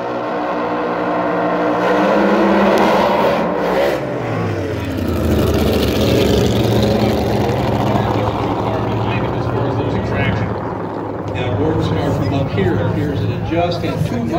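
A powerful drag racing car engine at Pomona, California roars and revs, pitch climbing and falling in surges, loud and close, with people talking over parts of it.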